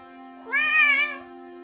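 A cat gives a single close, drawn-out meow with a rising then falling pitch, heard alone over a quiet steady hum.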